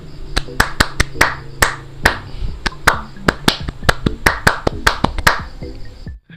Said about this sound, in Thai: ปรบมือหน่อยเร็ว